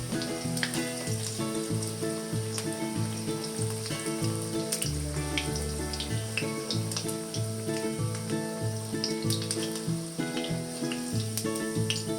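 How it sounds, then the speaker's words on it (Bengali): Cauliflower pieces fry in hot oil as a snack, a soft continuous sizzle running steadily underneath louder rhythmic background music throughout. "লাল করে ভাজা হয়ে গেলে আমরা তেল থেকে ফুলকপিগুলোকে নামিয়ে নেবো"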